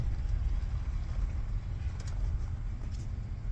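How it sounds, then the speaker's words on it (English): A Humvee engine runs steadily with a heavy low rumble, loud and continuous and alone, with no talking over it. "engine doesn't sound too hot"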